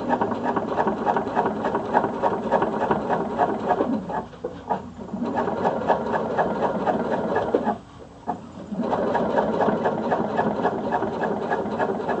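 A sewing machine stitches a flat fell seam along a folded fabric edge, a steady close rattling hum running continuously with two brief pauses.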